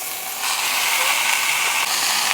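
Burger patties sizzle as they are pressed flat on a roughly 600-degree Chud press griddle, a dense steady hiss that swells slightly as the press goes down.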